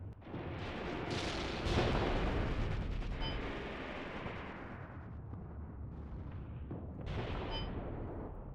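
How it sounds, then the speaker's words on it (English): Dense battlefield gunfire and artillery in a WWII video game, with machine gun bursts and heavy booms blurring into a loud, continuous roar that swells, eases and flares again near the end, with no voices over it. "I knew there was a good idea to put a MG nest over here."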